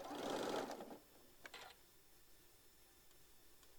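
A sewing machine stitches a tote bag in one quick whirring burst, pauses, then runs a shorter second burst; quiet ticks follow in a near-silent room.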